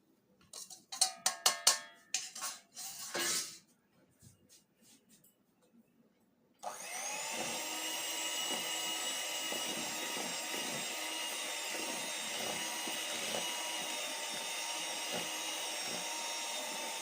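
Electric beater whipping brownie batter with sugar in a bowl, a continuous loud motor whine starting partway through after several sharp clinks and taps.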